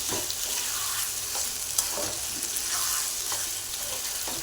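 Chicken liver frying in a pan gives a steady, loud sizzle with continuous crackling spatter and a few faint stirring scrapes, with no voices.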